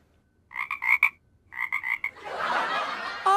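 A human voice imitates a frog, giving two quick runs of rhythmic, throaty croaks separated by a short pause, then a breathy rushing sound.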